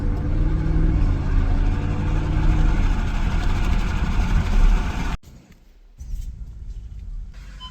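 A truck engine idles while warming up with a loud, steady, close low rumble. Around five seconds in it cuts out abruptly, leaving a brief quieter gap before a softer sound returns.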